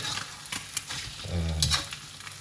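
Three eggs fry in a wok for mee goreng, giving a soft crackling sizzle with brief stirring scrapes, close and fairly quiet.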